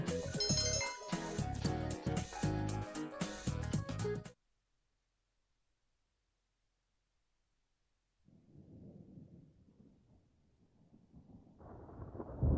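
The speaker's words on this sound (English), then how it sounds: "You hear the thunder rumbling." Thunder rumbles in a Persona video game. A stretch of music cuts to silence, then a low, muffled rumble builds and swells toward the end.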